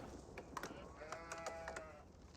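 Sheep bleating in the real-time strategy game Age of Empires 4, a few soft wavering bleats in quick succession, faint and distant under a low background of game ambience.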